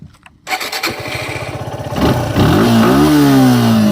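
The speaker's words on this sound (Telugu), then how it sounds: "ఇక్కడ మనం వెహికల్ స్టార్ట్ చేసి వద్దాం, దీనికి ఇంజిన్ సౌండ్ ఎలా ఉందన్నది" A Suzuki Gixer SF BS VI motorcycle engine cranks and catches, then settles into a steady idle before revving higher, loud and close.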